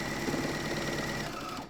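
A serger-style sewing machine stitches a seam on yoga pants while its blade trims a sliver of fabric. It whirs loudly and steadily close by for under two seconds, then winds down.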